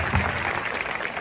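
Audience at a Hindi poetry gathering (kavi sammelan) breaks into a short burst of dense applause, steady and fairly close, with no other sound rising above it.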